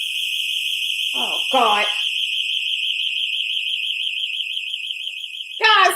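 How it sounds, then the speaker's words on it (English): A home security alarm sounds after a door is opened, a loud steady electronic tone sustained from start to finish while a person briefly speaks over it. "the alarm was on"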